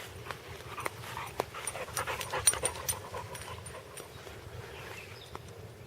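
A puppy pants close by in a garden, quick rhythmic breaths with soft snuffles and faint jingling, steady for several seconds at a fairly quiet level.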